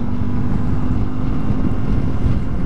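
Motorcycle riding with heavy wind buffeting the microphone, a dense, loud, continuous low rumble of engine and rushing air with no breaks.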